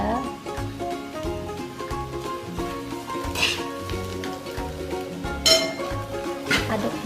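Cassava croquette filling sautéing in a pan, a steady close sizzle with the clink and scrape of a utensil stirring against metal, a few sharper clatters rising over the frying under light background music.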